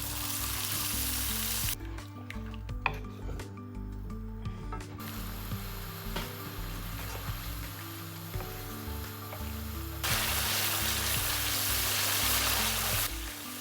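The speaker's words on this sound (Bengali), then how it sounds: "মশলাটা ভালো মতো কষিয়ে নেব" Spice paste of turmeric, chili and coriander powders with garlic and tomato fries in a pan, an even close sizzle that thins for a few seconds amid metal spatula clinks, then swells back to a loud hiss, without talking.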